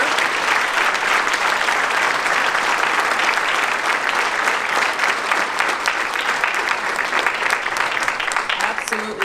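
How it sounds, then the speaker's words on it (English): A hall audience applauding the organizing committee at a 2019 turnaround achievement awards event, with dense, steady clapping that continues without a break the whole time. "This round of applause is for you"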